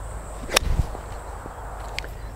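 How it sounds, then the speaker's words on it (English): Golf 5-iron swing: one sharp swish and crisp club strike on the ball, followed by a faint thud, heard outdoors against a low background rumble with no talking. "that's the best 5-iron I've hit since I've been on Channel Lock."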